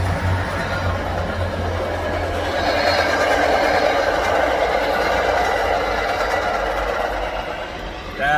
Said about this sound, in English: You got a train right here. Freaking thing's hauling butt too.